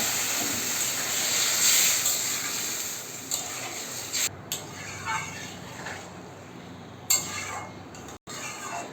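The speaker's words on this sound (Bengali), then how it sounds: "আমার ঝোলটা ফুটে গেছে" Thin shol fish curry broth boils in a pan with a close, hissing bubble, broken by occasional clinks and pauses as it is stirred.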